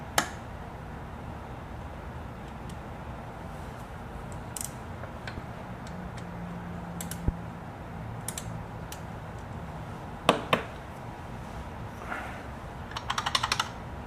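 A bobbin case rattles inside a Singer CG500C sewing machine, giving sparse light clicks and a few sharper taps over a steady low hum, with no voices.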